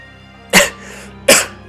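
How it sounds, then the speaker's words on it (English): Two sharp, loud coughs from a nearby person, about three-quarters of a second apart, each a short harsh burst over quiet background. "I still have a cough"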